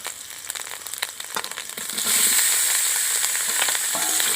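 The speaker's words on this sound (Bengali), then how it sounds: "আলুটা দিয়ে কিছুক্ষণ ভালো করে কষিয়ে নিয়েছি" Boiled potatoes frying in a pan with ginger and garlic for aloo dum, first stirred with scraping and crackling, then settling into a loud, steady close sizzle.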